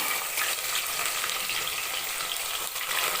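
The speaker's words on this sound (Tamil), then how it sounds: "நல்லா பொன்னிறமாக நம்ம நல்லா வதக்கி எடுத்துக்கிறோம் வெங்காயத்தை" Onions fry in oil with whole spices until golden for a mushroom biryani. The sizzle is loud, close and steady throughout, with occasional stirring and no talking.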